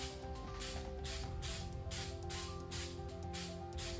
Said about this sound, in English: I'm really pleased with how this stone spray is coming out of that can